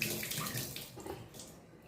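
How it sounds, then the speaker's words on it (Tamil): Water is poured briefly into a pressure cooker for a green chickpea gravy, a close, splashy gush that eases off within two seconds, with no talking. "தண்ணி விட்டு கொஞ்சமாக தண்ணி விட்டுருக்கேன்."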